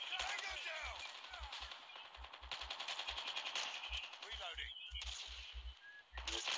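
Short bursts of gunfire and single shots crack out irregularly in Call of Duty Mobile, fairly faint under background game sound and a speaking voice.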